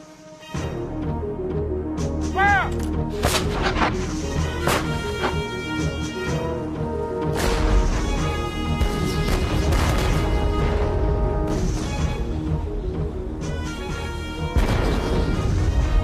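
Land-based artillery cannons booming in a dense, continuous barrage, heavy blasts and crashes layered over a sustained roar, with a musical score running throughout.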